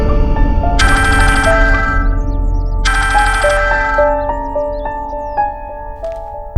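A phone rings loudly during an outgoing call, two bright electronic ringtone bursts followed by trailing melodic tones, close and clear with a low background hum.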